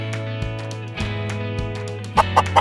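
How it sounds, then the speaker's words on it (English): A chicken clucking among farm animal sounds, a few loud, close clucks at the end following a steady tonal musical background with rhythmic beats. "I am a chicken."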